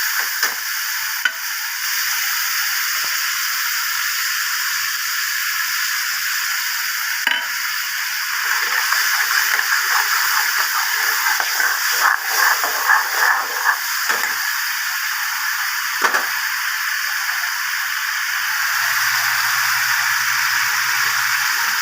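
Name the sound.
frying spice paste (masala) for taro and prawn curry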